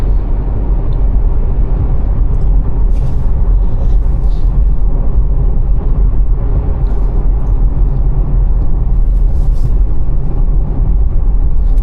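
A 2025 Subaru Forester Sport accelerates, its engine a loud, steady broadband rumble heard from inside the cabin throughout, with road noise and no talk.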